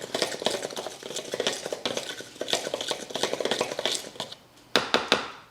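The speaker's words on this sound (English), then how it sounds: "1/2 teaspoon of baking soda, 1/2 teaspoon of salt, and give that a whisk." A whisk beats flour, baking soda and salt together in a bowl, making quick, rhythmic scraping taps that repeat close up before a few sharper clinks at the end.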